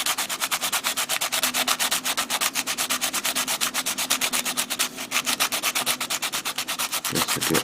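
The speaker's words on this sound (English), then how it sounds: "And now I'm going to sand it down. I'm going to use the harder, coarser grit first." Coarse-grit sandpaper scrubs a plastic model kit part in fast, even back-and-forth strokes, close up and steady, with a brief change of rhythm near the end and no voices.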